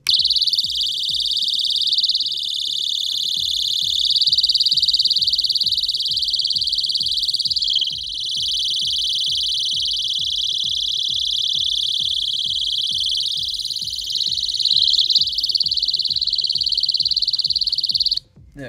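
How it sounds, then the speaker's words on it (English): A BASU eAlarm+ portable emergency alarm blares a loud, piercing, steady high-pitched shriek for nearly twenty seconds without pause, with a rapid pulsing warble underneath, then cuts off abruptly at the end. "And there is the demonstration of this eAlarm portable emergency alarm."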